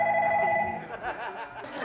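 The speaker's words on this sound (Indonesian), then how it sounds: "Ah, kayak ada suara telepon." A telephone rings in a TV studio during a comedy show, its tonal ring clear at first and then fading while brief laughter and chatter break in.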